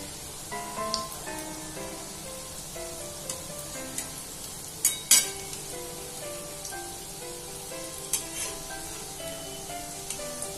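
Methi (fenugreek) pakoras frying in oil over a low flame, a steady close crackling sizzle with small popping bursts throughout, no voices.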